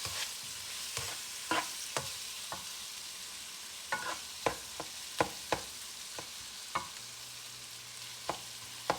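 Shrimp frying in a pan ahead of making fried rice, a continuous sizzle broken by repeated sharp scrapes and knocks of a utensil stirring at irregular intervals, close and clear with no voices.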